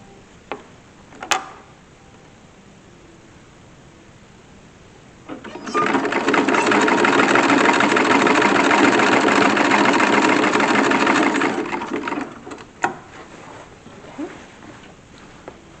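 A sewing machine stitches the edge of a corset casing, a fast even mechanical hum running steadily for about six seconds, framed by a few handling clicks and thumps before and after, close up with no talking.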